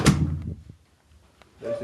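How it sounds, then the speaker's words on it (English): An indoor house door opens with a loud thud and latch clunk at once, followed by a quiet stretch with small knocks and a soft rustle at the end. "You open this door."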